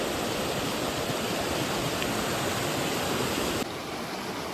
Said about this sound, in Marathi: जास्त मोठा प्रवाह आहे हा पाण्याचा पाण्याचा आवाजच तुम्हाला येत असेल